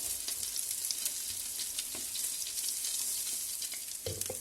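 Zucchini cutlets fry in a pan with a loud, steady sizzle and crackle, small pops scattered throughout and a brief clatter near the end.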